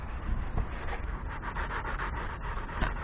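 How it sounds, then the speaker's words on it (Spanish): Paint is rubbed by hand over scratches on a BMW 320Ci E46, a close, steady, soft scrubbing rasp with gentle repeated strokes and no talking. "Le damos por todos los lados, yo os digo donde hay más arañazos, pues somos un poquito más insistentes, pero tampoco frotamos fuerte"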